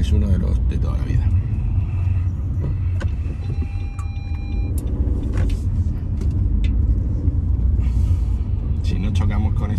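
City bus rolling alongside a car in traffic in Cartagena, Spain, its heavy engine rumble close and continuous over road noise, with a brief hiss and tonal whine midway and a voice talking over it.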